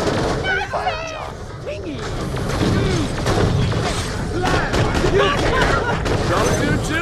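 Rapid gunfire from Borderlands: The Pre-Sequel crackles loud and close in dense bursts for several seconds, with game voices talking over the shooting.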